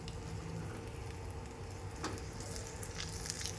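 Hot ghee tempering with asafoetida, red chillies, bay leaf and cloves tipped into Gujarati kadhi, giving a steady, fairly quiet sizzle throughout with a brief sharper burst partway, no voices.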